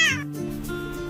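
A cat gives one short, high meow at the start, followed by a quieter, lower drawn-out vocal tone, close and clear with no talk.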